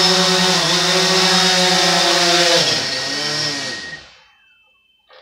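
DJI Phantom 4 Pro V2.0 drone fitted with low-noise propellers, a loud steady close whine with stacked harmonic tones that holds, dips slightly in pitch, then fades out and cuts off.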